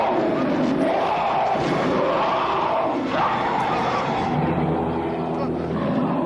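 Loud, dense crowd shouting from a horror film, a continuous roaring mass of voices with surging cries that fill the whole stretch without a break.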